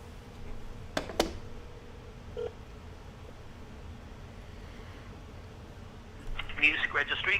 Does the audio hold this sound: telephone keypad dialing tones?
yes